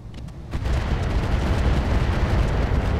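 Mech weapons open fire in a BattleTech Roguetech battle, a sudden loud burst around half a second in that swells into a sustained, dense rumbling barrage of impacts and booms with no talking.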